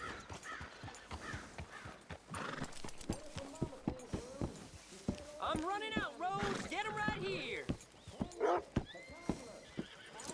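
Horses in Red Dead Redemption 2: repeated loud whinnies and snorts over a steady clip-clop of hooves, with a voice talking among them.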